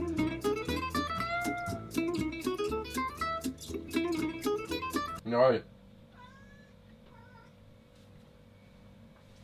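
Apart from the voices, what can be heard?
cat meowing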